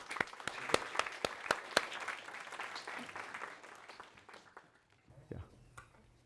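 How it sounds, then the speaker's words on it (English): Applause rises from a conference audience as a panelist is welcomed onto the stage at an enterprise AI panel. Sharp, distinct claps lead into a blended round that fades out, with a voice speaking near the end. "A round of applause to..."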